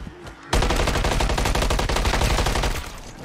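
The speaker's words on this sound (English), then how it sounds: "this is just a starting contraband gun that it gave me as well" Rapid automatic fire from a starting contraband gun in the zombies mode of Call of Duty Modern Warfare 3 bursts in loud and close after a brief quiet moment, a dense unbroken volley that keeps going to the end.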